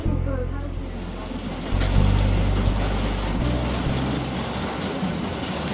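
A paddle steamer's engine runs at Echuca on the Murray River, a steady low mechanical drone and rumble that swells slightly partway through, with faint background sounds around it.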